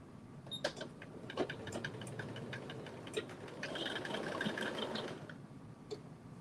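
A sewing machine stitches steadily during a live sew-along, its rapid mechanical ticking running continuously at close range with a brief speedup midway.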